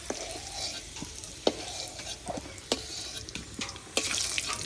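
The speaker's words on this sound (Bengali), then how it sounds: "আলুগুলো ভেজে নিলে একটু টেস্ট লাগে ভালো।" Potato pieces frying in a pan and stirred with a utensil, sharp intermittent scrapes and clicks over a steady, fairly quiet sizzle.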